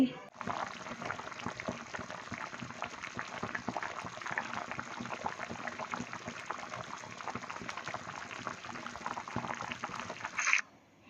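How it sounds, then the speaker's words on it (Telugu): Mango fish curry simmering in a pot, a dense continuous bubbling hiss that holds steady for several seconds at close range and then cuts off. "వేసుకున్న తర్వాత ఒక పది ఒక ఐదు నిమిషాలు అయితే ఉడకనివ్వాలి"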